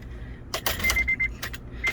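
Car key slides into the ignition of a 2008 Honda Element with a few short metallic jingles and scrapes, close and fairly quiet, over a low steady hum inside the car.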